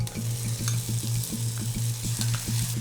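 A coconut and poppy seed paste sizzles in a frying pan as it is stirred, with a steady hiss under repeated rhythmic scraping of a spoon against the pan, close and moderately loud.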